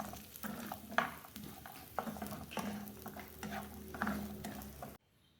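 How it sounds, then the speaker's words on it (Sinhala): Fried jackfruit seeds being stirred in a frying pan, with a steady oil sizzle and repeated scraping strokes of a utensil across the pan, close and clear with no talking, ending abruptly. "දැන් මේ ටිකත් මම හොඳට කවලම් කරගන්නවා."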